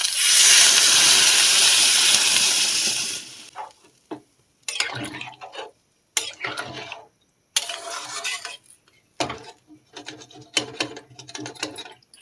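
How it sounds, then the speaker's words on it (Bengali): Water poured into a pan of soybean curry that has been fried in spices, a loud broadband sizzling burst for about three seconds, then quieter intermittent clinks and stirring in the pan. "এবারে জল দিয়ে দেবো।"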